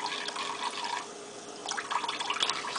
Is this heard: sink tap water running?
yes